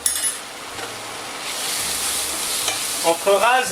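Flour toasts lightly in a pan for a white sauce, a soft close sizzle under repeated scraping strokes of a utensil across the pan, with a few clinks near the end.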